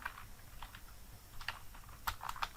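Text typed on a computer keyboard, a handful of quiet, irregular key clicks in small clusters, close and faint with no talking.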